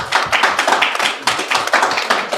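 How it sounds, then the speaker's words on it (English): A small group clapping for a guest at a casual brewery chat, steady dense hand claps close by, loud and continuous without talk. "I don't know if the applause was necessary."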